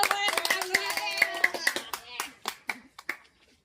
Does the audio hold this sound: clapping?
yes